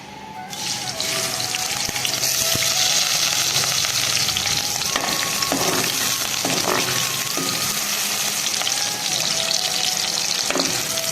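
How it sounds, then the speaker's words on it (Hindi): Onions fry in hot ghee and oil, a loud, dense sizzle that swells as they are added and then holds steady, with scattered clinks and stirring sounds from the pan. "तो ऑयल गर्म हो चुका है, अब मैं प्याज ऐड करूंगी।"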